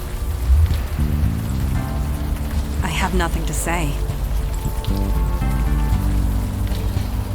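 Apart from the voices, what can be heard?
rain falling, from the video game Unavowed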